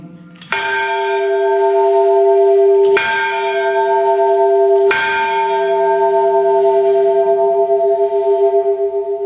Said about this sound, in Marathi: यांनी पुत्रप्राप्तीसाठी ही घंटा या ठिकाणी लावलेली आहे